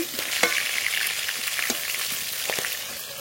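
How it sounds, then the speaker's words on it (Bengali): A piece of rupchand fish fries in a pan with a steady, close sizzle, broken by a few brief clatters as it is turned over. "এপাশ ওপাশ উল্টিয়ে মাছ খুব ভালো করে ভেজে নিয়েছি"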